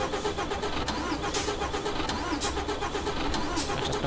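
A truck engine in Euro Truck Simulator cranks and turns over with a sustained mid-pitched rumble and rising engine noise throughout, fairly loud and close.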